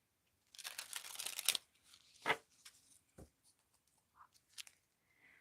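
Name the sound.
shuffling tarot cards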